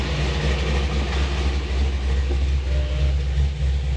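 A 440 race engine idles in a garage on a hot day, a loud, steady low rumble with a constant throb close to the microphone and no talking.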